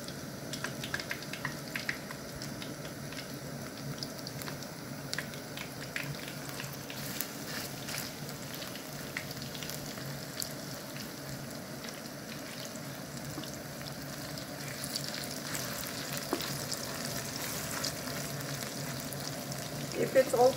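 Chicken pieces for Korean garlic fried chicken are laid into hot oil, producing a continuous close crackling sizzle with occasional bubbling and utensil scrapes, steady throughout.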